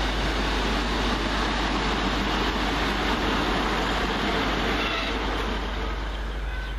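A Virgin Trains passenger service running from London Euston to Manchester Piccadilly gives a loud, steady, low rumble with constant broadband roar that holds evenly throughout, close by and without a break.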